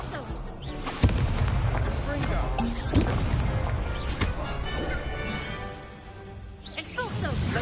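Several loud booming blasts from the Expulso spell in Hogwarts Legacy burst out at irregular intervals over dense combat noise, with a person talking through the action.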